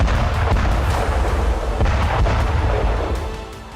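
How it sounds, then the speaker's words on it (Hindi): A dense barrage of overlapping cluster bomb explosions rumbles continuously, heavy low booms with sharp bursts scattered throughout, fading slightly toward the end. "जमीन पर एक ही समय में कई धमाके होते हैं"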